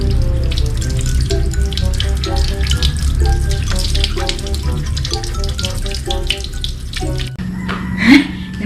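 Harvested melons are washed by hand under running water, a steady close splashing and trickling that continues for several seconds, with brief knocks as the fruit is handled and a louder splash near the end.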